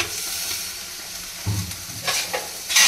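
Prawn curry cooks in a pan on a gas stove, giving a soft steady sizzle with a few louder bursts of stirring or spattering near the end, close and without talk.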